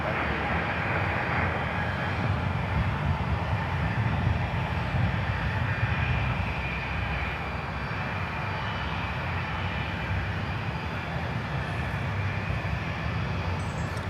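A McDonnell Douglas DC-8 cargo jet at Miami Airport roars with a loud, sustained engine rumble and broadband whine that holds steady throughout.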